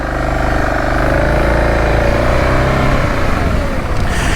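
A 2013 BMW GS650 adventure motorcycle pulls away with its engine droning and revving steadily and loudly under wind noise from start to finish, no voices.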